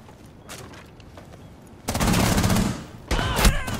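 Automatic gunfire in Rainbow Six Siege, with a few sparse shots and then loud sustained bursts of rapid fire, up close.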